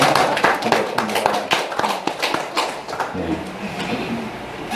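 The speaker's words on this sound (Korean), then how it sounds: "박수를 한번 드립니다" A church congregation claps for a welcomed member during a Sunday worship service, with scattered, uneven hand claps at moderate loudness mixed with voices.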